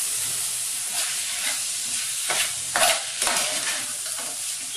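About two to two and a half cups of rice are stirred and fried with masala in a pan for dagacha bhaat. A steady close sizzle runs throughout with a few scraping stirs, and no one speaks.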